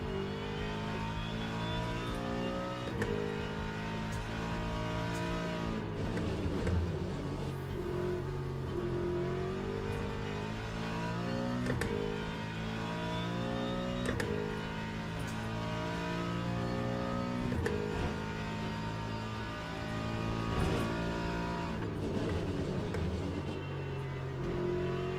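A race car engine in Le Mans Ultimate howls at high revs for a long stretch, with repeated sharp shifts and dips in pitch as it downshifts and climbs again, loud and close throughout.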